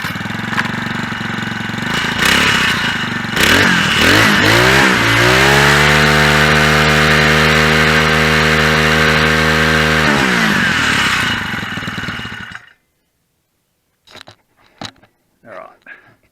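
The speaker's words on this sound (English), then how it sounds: "we're just going to rev it up and make sure it just doesn't pop off again." A four-stroke motorised bicycle engine revs up loudly, climbing in pitch and holding a steady high rev for several seconds before cutting out abruptly, followed by a few faint, brief knocks in near silence.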